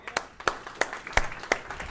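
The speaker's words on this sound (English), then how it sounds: "So give Gateway a big hand clap." Audience claps for Gateway at a 2019 church business equip class: about five separate, evenly spaced hand claps ring out in a steady rhythm, fairly close and moderately loud, with no voices.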